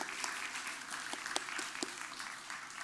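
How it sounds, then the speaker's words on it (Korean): A church congregation at a Sunday young-adult worship service applauds, a soft, steady patter of many hands with a few sharper claps standing out, heard at a distance. "저희 박수로 환송하겠습니다."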